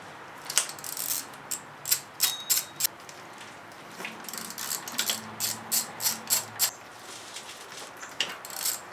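A hand ratchet loosens the bolts on an engine intake bracket of a 1999 Pontiac Grand Prix GTP during a head gasket job, with close, rapid bursts of clicking in several rhythmic runs separated by brief pauses.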